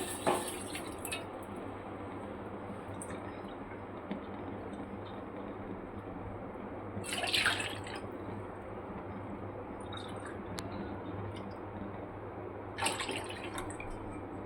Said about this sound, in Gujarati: હવે આપણે આમાં ત્રણ કપ દૂધ નાખી દઈશું